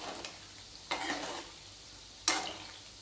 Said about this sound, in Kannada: ಬಿಸಿ ಎಣ್ಣೆಗೆ ಶೇಂಗಾ ಎಲ್ಲ ಬೇರೆ ಬೇರೆ ಆಗಿಬಿಡ್ತಾವೆ